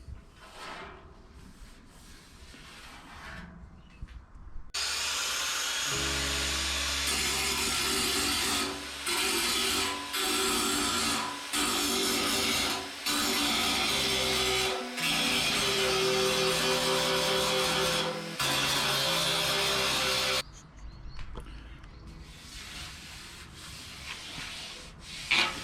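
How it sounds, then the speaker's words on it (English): An angle grinder with a stripping disc grinds down welds on the steel front guard panel of a Land Cruiser BJ40, a loud, harsh, sustained abrasive roar broken by short dips as the disc lifts off. "so I'll just keep grinding them down and sand them down with a stripping disc"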